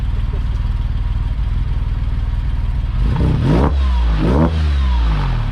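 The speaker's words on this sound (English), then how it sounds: "the engine's warmed up, so let's hear it, Tommy." A warmed-up 2000 Porsche engine fitted with Schrick cams idles with a steady rumble, then is revved hard twice, rising and falling sharply, loud and close.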